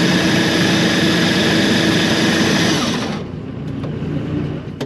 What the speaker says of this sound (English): You'll hear the engine spin over.